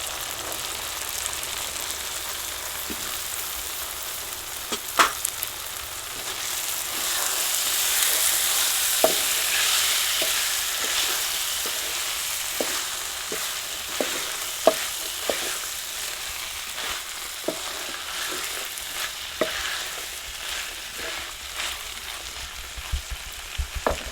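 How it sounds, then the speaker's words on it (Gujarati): Shelled pigeon pea beans fry in a pan with a steady sizzle while a spoon stirs them, its scrapes and clicks recurring irregularly throughout at close range. "હવે આપણે ફોલેલા અતુરના દાણા નાખી દઈએ"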